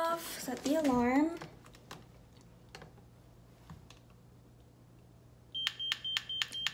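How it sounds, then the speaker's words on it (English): A home security alarm is armed with a run of short, evenly spaced electronic beeps near the end. A voice speaks briefly first, then quiet keypad presses come before the beeping. "Set the alarm."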